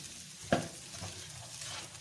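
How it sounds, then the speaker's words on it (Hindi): Cabbage and vegetables stir-frying over a medium flame for egg fried rice, a gentle continuous sizzle with one clear spatula scrape against the pan, close and without speech. "इन तमाम चीज़ों को अच्छे से जो है वो हम लोग मिक्स करेंगे"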